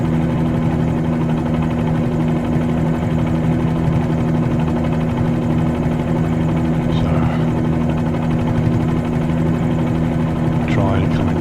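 A Bell 47G helicopter in Microsoft Flight Simulator 2020 drones steadily through a spot landing, its rotor and engine hum constant and loud throughout.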